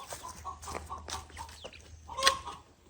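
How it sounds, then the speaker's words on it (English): Chickens just let out of their coop cluck and call nearby in scattered bursts, with one louder squawk near the end over a low steady background hum. "the first thing we're going to do is let the chickens out"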